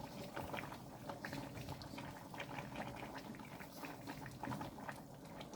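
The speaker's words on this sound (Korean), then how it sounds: "한 소끔 끓는 미역국에 잘라놓은 수제비를" A pot of Korean seaweed soup simmers with pieces of sujebi dough added, giving a soft, steady bubbling and gentle popping that stays faint and continuous throughout.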